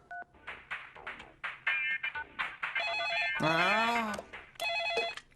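A telephone rings with repeated electronic trilling bursts, loud and near, alongside a cartoon-style warbling tone, and a voice briefly exclaims.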